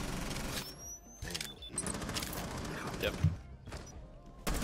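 Gunfire in a Rainbow Six Siege match, a few scattered bursts and thuds beneath game noise, with players talking over the action.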